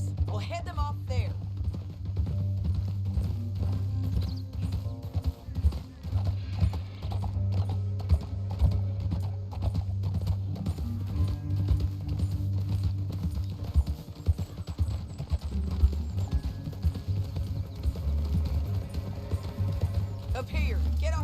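Steady clip-clop of galloping horse hooves in the video game Red Dead Redemption 2, with occasional whinnies, mixed under music and voices for the whole stretch.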